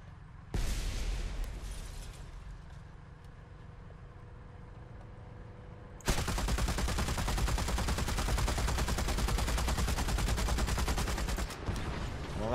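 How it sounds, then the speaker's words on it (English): A machine gun mounted on an IS-7 heavy tank fires in the combat game War Thunder, a dense continuous rattle of rapid shots starting partway through and running long over engine rumble. "Come on, machine gun. I know you can reach."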